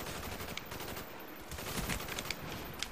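Gunfire in Call of Duty: Black Ops on the Hanoi map, with dense, continuous rapid shots and bursts filling a busy, fairly quiet game mix, no talking.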